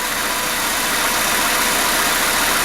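A Hyundai Tucson's 2.0-litre G4GC petrol engine idles loudly and steadily up close after a repair to its phase regulator, a smooth even hum with no diesel-like clatter and no talking.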